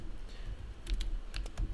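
Bursts of computer keyboard typing while code is entered, a few quick clusters of key clicks up close over a low background hum.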